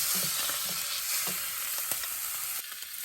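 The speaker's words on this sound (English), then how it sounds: "I have it on the highest heat, and I basically just wanna brown everything on all the sides" Osso buco meat browns in a pan over the highest heat, giving a steady close sizzle and crackle with a few soft stirring knocks and scrapes, running alone without talk.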